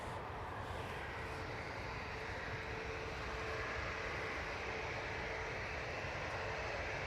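An EasyJet airliner rolling out at Manchester Airport produces a continuous, even engine rumble and hiss, distant and unbroken, with no talking.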